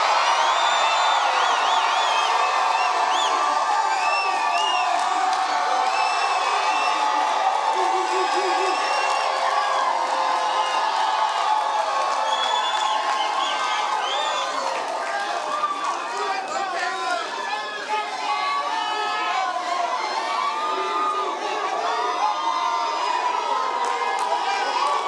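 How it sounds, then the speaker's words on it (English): A graduation crowd cheers as loud as it can, a dense sustained roar of whoops, shouts and screams from many people filling a large hall for the whole stretch. "you want to cheer as loud as you can. So, on the count of 3, we're going to be as loud as possible."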